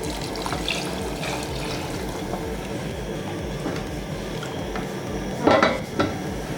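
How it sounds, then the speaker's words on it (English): Water pours steadily into a stew pot while catfish stew is prepared, a continuous close splashing rush with a few clinks of cookware near the end. "Then I'll add water."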